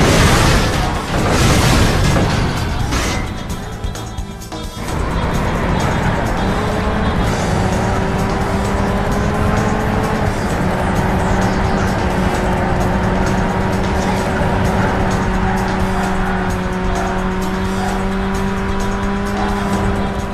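Racing cars roar through a lap of the PS2 game Burnout, their engines droning loud and steady with shifting pitch and a burst of crashing noise near the start.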